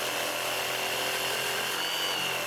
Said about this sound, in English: I rough cut the material here with the jigsaw just to get the bulk of the material away.